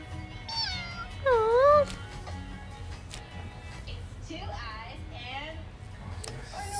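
A game cat meows in Avatar World, a few clear rising and falling meows near the start and again midway, heard over soft background music.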